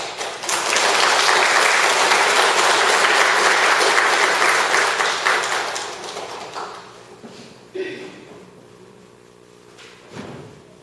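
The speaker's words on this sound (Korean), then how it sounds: "우리 박수로 환영해 주시기 바랍니다." A church congregation gives loud, sustained applause to welcome a pastor. The clapping fades after about six seconds, leaving a few scattered claps and quiet room sounds.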